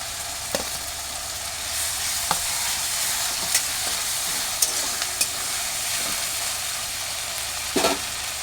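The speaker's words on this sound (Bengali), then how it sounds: "আমি পেঁয়াজ রসুন টমেটো সব একসাথে দিয়ে ভেজে নেব" Onion, garlic and tomato fry together in a pan, giving a steady, loud sizzle throughout. A few sharp pops and stirring scrapes break through, with no talking.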